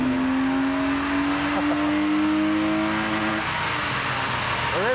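A car engine on a dyno revs steadily higher toward its rev limit, loud and close, with a rising engine tone that holds near the top and then drops slightly.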